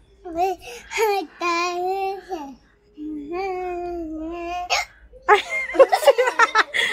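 A singer hiccups during a guess-the-song game, sharp little catches breaking into a sung, hummed melody, followed by children laughing and babbling close by.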